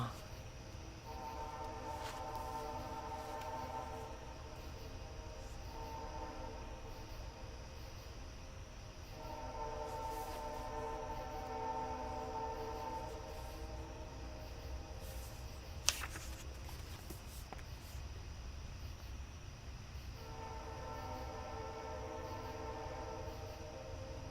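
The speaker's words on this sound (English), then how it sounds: "Oh, look, we have a train. So I'm going to let him ride on by before signing off." A passing train sounds its horn in several long, drawn-out blasts at a moderate distance, over a continuous low rumble of rolling wagons.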